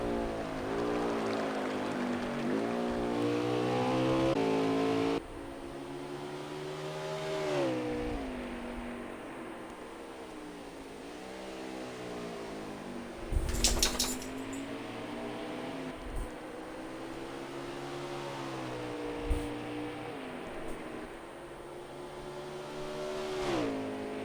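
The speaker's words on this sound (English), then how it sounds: "making his way across start finish line in that number 9 Camaro" The number 9 Chevrolet Camaro stock car in an Xfinity Series race at Road America, its engine note repeatedly climbing and dropping through gear shifts, loud and sustained, with a sharp burst midway and no voices.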